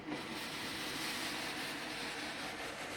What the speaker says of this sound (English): look at that steam go